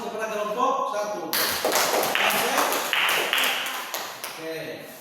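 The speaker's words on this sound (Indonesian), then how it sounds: "berikan aplaus kepada kelompok 1" A class claps for a group's project, a short burst of scattered handclaps mixed with a teacher's voice talking over the applause.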